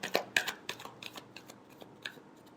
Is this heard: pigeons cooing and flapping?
no